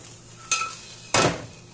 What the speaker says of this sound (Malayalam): ഇത് നമുക്കിങ്ങനെ ചെറുതായിട്ട് ഇളക്കി കൊടുത്ത് ഇതെല്ലായിടത്തോട്ടും ഒന്ന് മിക്സ് ചെയ്യണം.